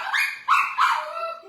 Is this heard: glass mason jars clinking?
no